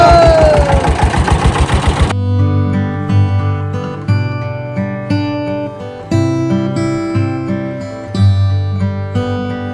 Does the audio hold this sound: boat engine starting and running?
yes